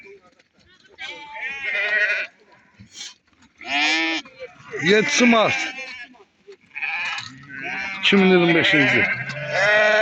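Sheep and lambs in a flock bleat repeatedly in wavering, nasal calls, several overlapping at close range, with people talking over and between them.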